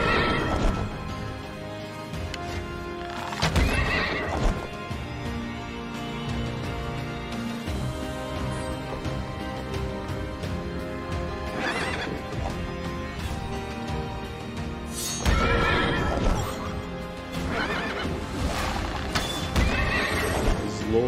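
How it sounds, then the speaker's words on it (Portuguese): A horse in the video game Child of Light neighs and whinnies among clip-clop hoof sounds and impact effects, layered over continuous game music, with several loud bursts spread across the clip. "Cavalinho"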